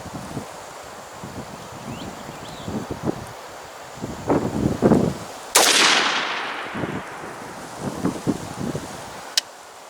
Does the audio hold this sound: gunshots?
yes